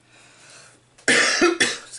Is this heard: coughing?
yes